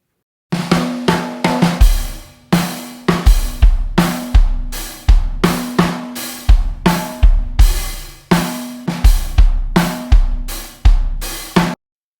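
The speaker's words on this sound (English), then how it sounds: "the kit I played is an early 40s Slingerland Radio King with a 26-inch kick and 7-inch snare" Early-1940s Slingerland Radio King drum kit with a 26-inch kick and 7-inch snare, played in a steady groove of punchy deep kick hits and crisp snare and cymbal strokes, close and loud, with no talking.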